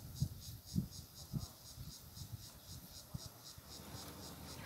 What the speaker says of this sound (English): these guys have a unique noise-making organ known as a timbal